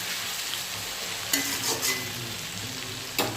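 Potatoes fry in a pan of oil tempered with cumin and bay leaf, a steady close sizzle with a few scraping stirs and clacks of a spoon against the pan.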